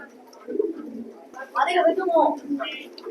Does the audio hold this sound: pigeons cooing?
yes